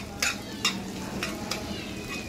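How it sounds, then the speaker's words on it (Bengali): Prawns frying in a pan with salt, stirred in several separate scraping strokes over a steady soft sizzle, close by and with no talking. "চিংড়ি মাছটা কিন্তু একটু ভালোভাবে ভাজতে হবে।"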